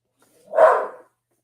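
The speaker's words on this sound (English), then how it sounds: "That's your dogs?" A single dog bark, short and fairly loud, standing alone against silence.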